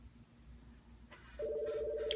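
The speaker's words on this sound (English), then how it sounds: "phone is ringing." A telephone starts ringing indoors after a quiet stretch, giving a steady electronic tone that stays at a moderate level to the end.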